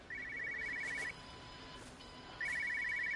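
A cell phone, actually a satellite phone, rings in the video game Everybody's Gone to the Rapture: two loud electronic ringing bursts separated by a brief lull, over quiet ambient background.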